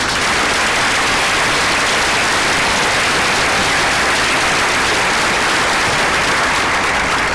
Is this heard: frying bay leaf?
no